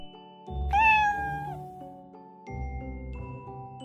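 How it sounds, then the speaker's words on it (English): A cat meows once with a rising, drawn-out cry over a light musical backing, followed by a softer second mew near the end. "C is for cat."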